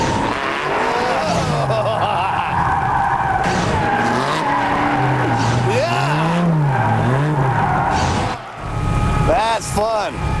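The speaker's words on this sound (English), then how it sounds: "That's to get into the car, buckle up, and drift." A car drifting at a track, with loud, sustained tire squeal and skidding rising and falling in pitch under a roaring engine, close and continuous, with brief excited voices.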